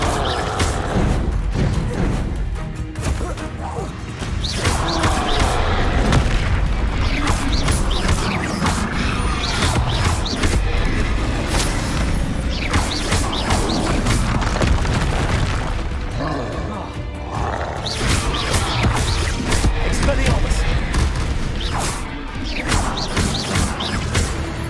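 An Expelliarmus spell blasts in a Harry Potter video game, with loud booming impacts and crashing effects over a dense, continuous wash of game sound, and a voice speaking within the mix.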